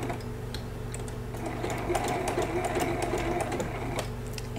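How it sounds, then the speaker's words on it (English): A sewing machine runs steadily with a fast, even stitching rhythm while sewing decorative stitches on a teddy bear appliqué for a baby quilt, close and continuous with no talk. "pick different decorative stitches in your machine to stitch down all of the different parts"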